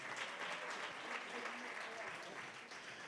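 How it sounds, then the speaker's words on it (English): Audience at a live chat event breaks into a round of applause, steady dense clapping throughout but fairly faint and distant. "Let's give that a round of applause."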